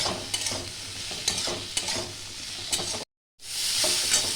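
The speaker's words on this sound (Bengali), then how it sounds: "হাফ চামচ মতন হলুদ দিয়ে আমি 1 থেকে 2 মিনিট একটু ডাঁটাটা দিয়ে আমি ভালো করে ভেজে নেব" Drumstick stems fry with turmeric and salt in a hot pan, giving a loud continuous sizzle broken by repeated scraping stirs. The sound cuts out briefly, then returns as a brighter hiss.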